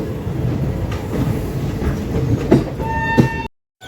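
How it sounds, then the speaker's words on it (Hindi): Supaul special train 04072 pulls out of a station, its carriages rumbling loud and near with rhythmic clickety-clack and brief metallic wheel squeals, then the sound cuts off abruptly. "20 मिनट रुकने के बाद अपनी ट्रेन यहाँ से निकलती हुई"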